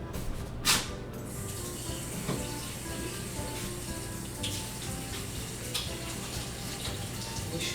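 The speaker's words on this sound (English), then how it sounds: "I'm going to go to the sink and wash my hands" Hands are washed at a sink under a running tap, giving a steady, fairly close rush of water with small splashes and brief hand movements throughout.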